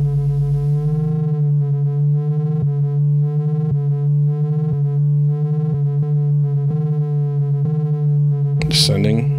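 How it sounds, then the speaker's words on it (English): A steady sine-wave tone from a Northern Light Modular Tricillator synthesizer hums with a low fundamental and stacked harmonics, pulsing slightly in rhythm, ending with a brief noisy burst. "Sine wave."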